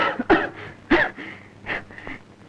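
A person in a film scene coughs several times in short, harsh bursts, close and fairly loud, with brief wheezy breaths between them.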